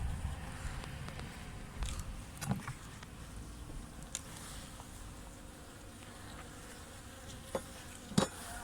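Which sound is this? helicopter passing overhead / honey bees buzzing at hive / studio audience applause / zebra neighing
honey bees buzzing at hive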